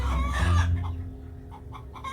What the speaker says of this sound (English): the Dorking cockerel